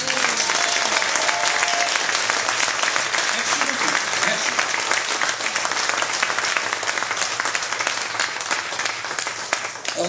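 A concert crowd applauds loudly and continuously, a dense wash of clapping that fills the hall for the whole stretch, with a voice faintly over it.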